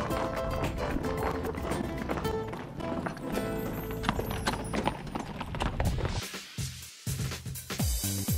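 Four horses in a competition carriage hitch trot steadily, their hooves clip-clopping in a dense, loud rhythm with rattling harness and wheels, easing toward the end.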